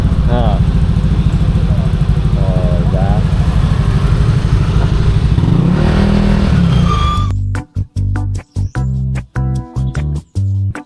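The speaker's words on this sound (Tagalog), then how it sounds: "Ayun na, mga motor!" Motorcycle engines rumble loudly nearby on a street in Manila, a steady roar that later breaks into sharp revving bursts as bikes pass.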